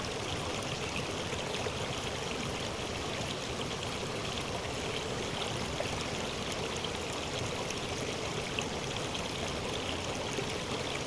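A flowing water stream runs in a steady, even rush with soft trickling detail, continuous and unbroken throughout with no voices.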